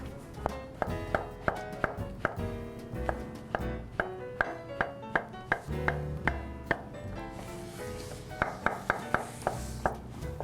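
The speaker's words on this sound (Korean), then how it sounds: "이렇게 썰어주시고 버섯도." Knife chopping mushrooms on a cutting board for octopus tteokbokki, crisp and close, in a steady rhythm of sharp taps with a brief pause partway through and a faint metallic ring.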